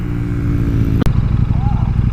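A supermoto motorcycle engine runs close by with a rough, pulsing idle and a sharp clack partway through, then keeps chugging unevenly.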